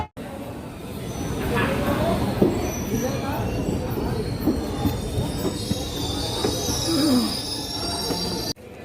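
Passenger train on the Tinsukia–Lumding line pulling out of Dimapur station in Assam, with steady rolling rumble and intermittent wheel squeal heard from inside a coach, loud and continuous.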